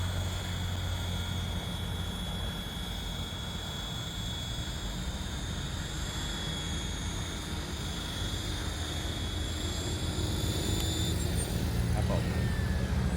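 A radio-controlled MD-500 model helicopter, size 500 with a belt-driven tail, sets down with a steady, high rotor whine that eases near the end, close by and continuous, with a voice talking over it.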